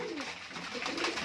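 High-flying pigeons, among them tumbler birds, coo in a steady low murmur, several birds overlapping close by with no voices.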